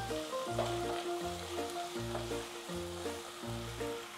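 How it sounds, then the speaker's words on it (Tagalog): Ingredients sauté in a hot pan with a steady, quiet sizzle, while a repeating tonal melody plays over it and no one speaks. "igisa mo muna siya"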